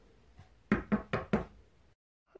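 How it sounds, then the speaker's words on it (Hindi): Four firm knocks land in quick succession on a door in the early morning hours, loud and close, followed by a brief silence and a faint stir afterward. "4:15 बजे नीचे वाली भाभी और भैया ने दरवाजा खटखटाया"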